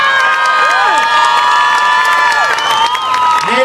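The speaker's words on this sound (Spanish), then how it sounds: "Bien, pues ese aplauso más fuerte todavía" A loud festival crowd in Mexico City's Zocalo at the Day of the Dead closing event cheers, whoops and claps continuously, with shrill children's shouts and whistles cutting above the dense roar.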